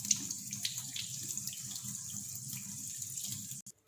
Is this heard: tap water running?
yes